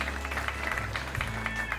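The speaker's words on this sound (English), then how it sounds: "let's have a round of applause once again for our father of the bride and his daughter" Wedding reception guests clapping for the father of the bride and his daughter, a steady patter of many hands from a moderately distant crowd, with music faintly underneath.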